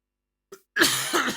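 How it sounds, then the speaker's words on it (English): A man lets out one short, sharp cough after a moment of silence. A brief throat sound comes first, and a harsher cough follows, close and fairly loud, with a second push at the end. "I've got a cough."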